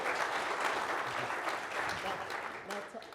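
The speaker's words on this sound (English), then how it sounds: "Another round of applause for our volunteers." Conference audience applauding volunteers at a tech event, a steady wash of clapping that fills the whole moment at moderate distance, with some voices mixed in.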